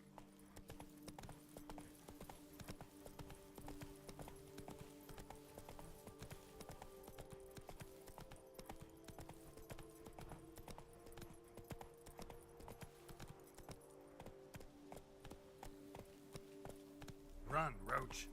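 Roach the horse gallops in The Witcher 3, with steady rhythmic hoofbeats running throughout and a brief louder burst near the end, with in-game speech at moments.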